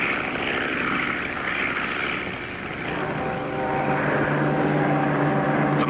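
A propeller airplane drones steadily overhead, its engine hum loud and continuous, with a slight pitch shift partway through.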